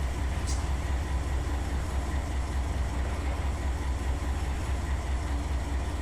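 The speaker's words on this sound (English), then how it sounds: "this is Chicago Fresno intermodal" An intermodal freight train from Chicago to Fresno runs in Run 8 Train Simulator, a steady, heavy rumble of wheels and engine that holds even throughout, with no talking.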